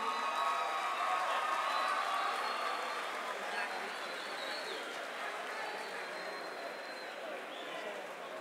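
A crowd claps and cheers at a rap battle event, producing a dense, sustained wash of applause that stays loud and steady across the whole stretch, with voices mixed in.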